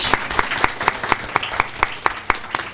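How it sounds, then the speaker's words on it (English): Steady applause from a festival audience after a cultural heritage panel discussion, a dense wash of clapping with a few sharper individual claps standing out, continuous throughout. "a big round of applause to you and also to our distinguished panel"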